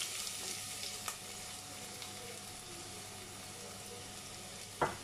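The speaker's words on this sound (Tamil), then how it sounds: "இப்போ நம்ம வச்சுருக்க வெங்காயத்தை ஆட் பண்ணிடலாம்" Onions frying with cloves and cardamom for mutton paya make a faint, even sizzle with a couple of light clicks and a brief louder scrape near the end.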